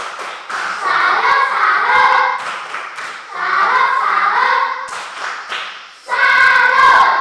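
A classroom group performs a tepuk salut, three bursts of rhythmic unison clapping separated by short pauses, loud and close, with some voices chanting along.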